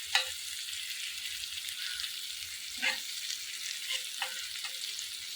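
Fish fries gently in oil over low heat, a soft continuous sizzle with a few faint pops and crackles, close and even throughout.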